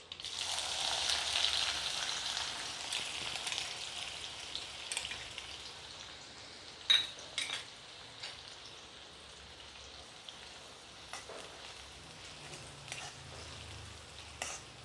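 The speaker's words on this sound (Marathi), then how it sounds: "एक वाटी मी कांदा घेतलेला आहे ए मोठा कांदा घेतलेला आहे बारीक चांगला कापून घेतलेला आहे आता मी याच्यात ॲड करते" Finely chopped onion frying in a pan, a steady soft sizzle with scattered crackles and pops throughout, one sharper spatter near the middle, no voices.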